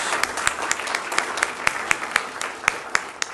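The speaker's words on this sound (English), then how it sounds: "join me in a round of applause for our Education Edge classroom mini grant winners" Audience applause at an evening school board meeting honoring classroom mini grant winners, a room full of people clapping steadily with sharp individual claps standing out over a continuous wash.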